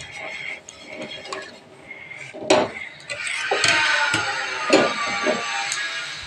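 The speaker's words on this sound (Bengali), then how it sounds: "সাদা তেল নিয়ে নিয়েছি, আর এবার এটা ফ্রাই প্যানের মধ্যে ভালো করে দিয়ে দেবো" A ladle scrapes and clinks against a frying pan as white oil is spread for making patishapta, with irregular metallic knocks and scraping strokes close by, alone.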